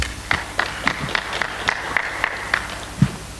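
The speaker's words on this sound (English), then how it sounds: "Can you clap for yourselves?" Scattered, sparse clapping from a conference audience at a Pan African counter-terrorism gathering, about ten separate claps in an uneven rhythm, moderately close and fairly quiet, with no speech over it.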